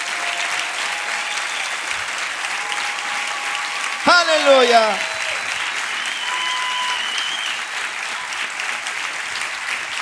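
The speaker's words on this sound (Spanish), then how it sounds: "Adora con un aplauso de gratitud" Church congregation applauding during a sermon, a steady wash of clapping running throughout with a brief voice calling out midway.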